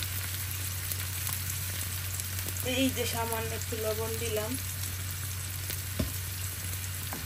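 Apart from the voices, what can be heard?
frying in pan, sizzling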